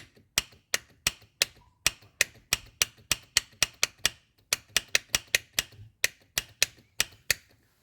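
A jammed car power window motor clicks in quick, sharp, evenly spaced ticks, about two or three per second, close and distinct against a quiet background.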